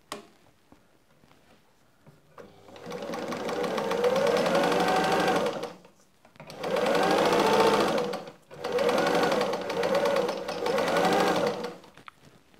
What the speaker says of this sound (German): wir nähen das Ganze einmal unter der Maschine ab